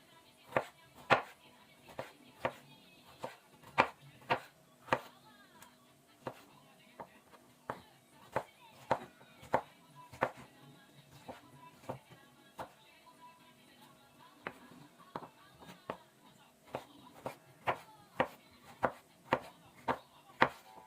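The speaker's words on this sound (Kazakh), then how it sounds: "қызанағымызды турап аламыз" A knife chops tomatoes for a salad on a cutting board in a steady run of sharp, close taps, about one or two a second, with no talk.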